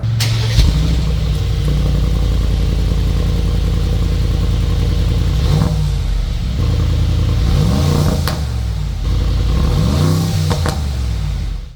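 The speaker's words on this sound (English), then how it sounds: "So that was the exhaust sound." A 2022 Brabus 800 Mercedes-AMG G63 exhaust revs loudly and continuously in sport mode, with several sharp throttle blips rising and falling over a deep, rumbling idle.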